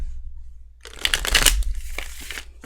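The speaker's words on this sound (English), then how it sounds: "So that's why I'm like shuffling so much, because I'm just trying to get used to it" A flexible tarot deck is shuffled by hand in a quiet room, with a steady run of riffling card flutters and soft slaps lasting a couple of seconds, close and fairly loud.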